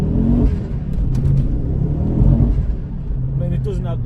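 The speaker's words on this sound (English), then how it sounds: "it doesn't help that mine's got a thunderstorm exhaust on, so that does make it a little bit shouty" A Ford Focus RS Mk2 five-cylinder engine rumbles and revs with a loud, throaty aftermarket exhaust, steady and close throughout, with a voice talking over it.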